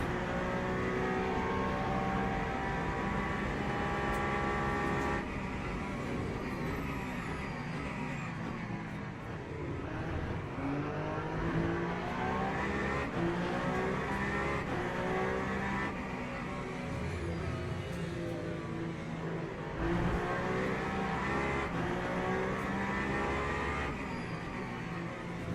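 GT3 race car engines in a racing video game, a steady loud mix of several cars roaring and revving, with rising and falling gear pitches and cars passing, continuous throughout.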